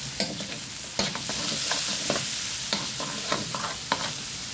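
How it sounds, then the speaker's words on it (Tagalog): Pancit canton and sotanghon noodles are sautéed and stirred in a pan, a steady close sizzle broken by repeated sharp scraping clinks of the utensil against the pan. "Igisa lang natin."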